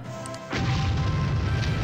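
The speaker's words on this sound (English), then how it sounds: "Grenades blow up on impact with cardboard." A grenade goes off on impact in Army Men: Sarge's Heroes 2, hitting cardboard with a sudden loud blast and a sustained crashing rumble that carries through to the end after a short quiet start.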